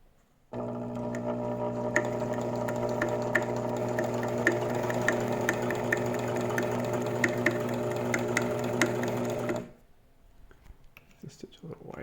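An Elna T SP 72C sewing machine sewing a zigzag stitch, a steady close motor hum with rhythmic ticking of the needle for about nine seconds, then stopping, with a voice speaking afterward.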